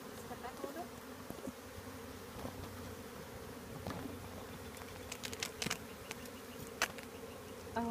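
Many honey bees buzz continuously around the listener near their hive, a dense humming swarm close by with occasional louder passes near the ear.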